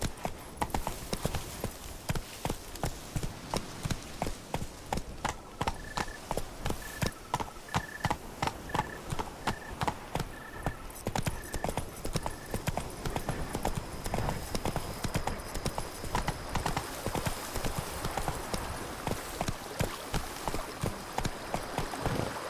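Horse hooves from The Witcher 3 clip-clop in a quick, steady rhythm that runs the whole time, fairly close and even, with a faint chiming tone briefly sounding in the middle.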